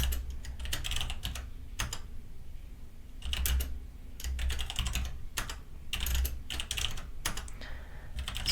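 Steady keyboard typing on a computer while entering a file name in a Raspberry Pi terminal for a DIY digital photo frame, quick clustered key clicks in several bursts with short pauses, close and clear, no voices.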